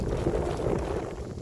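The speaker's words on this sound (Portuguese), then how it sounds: "Tá ventando um pouco, mas aqui é de boa, pura pedra." Wind gusting across a rocky riverside fishing spot, a steady low rumble and buffeting against the microphone that continues without a break for the whole moment, with no voices heard.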